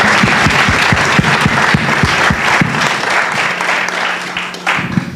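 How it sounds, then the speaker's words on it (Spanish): Audience applause for the host at a book launch event, loud steady clapping with distinct rhythmic claps near the front, gradually thinning toward the end, no speech over it. "un aplauso para nuestro anfitrión"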